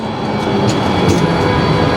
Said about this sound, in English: there comes the light rail that will take you to Bayonne